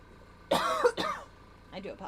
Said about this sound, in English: I have a slight cough.